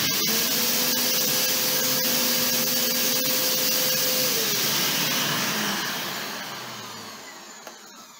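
An Arnica Bora 4000 vacuum cleaner fitted with a replacement motor runs with a strong, steady whine and rushing airflow, then winds down and fades toward the end as the motor slows.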